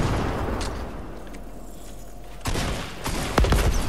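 Gunfire while shooting enemies in a Fortnite duo match, with a busy layer of game noise and then several sharp shots and bursts toward the end, fairly loud.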